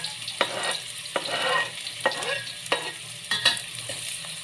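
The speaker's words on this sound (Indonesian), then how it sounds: "Kita goreng bawang merahnya dulu." Shallots sizzle in hot oil in a pan as the first step of a tempeh and green chili stir-fry, with a steady frying hiss broken by several sharp stirring scrapes spaced about a second apart, close and without talk.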